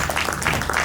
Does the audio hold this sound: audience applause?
yes